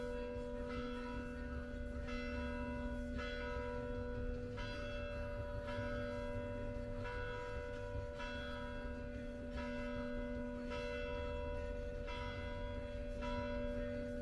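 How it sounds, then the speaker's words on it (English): A church bell tolls steadily, strikes about once every second and a half, ringing out clearly over a constant low hum. "There's the church bell"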